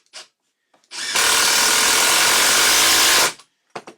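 A Milwaukee impact driver drives a Torx screw in one loud, close burst of about two seconds, with brief quiet moments before and after.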